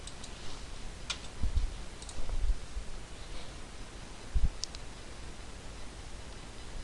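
Computer mouse clicking, a few faint, sparse clicks against a steady room hiss, no talking.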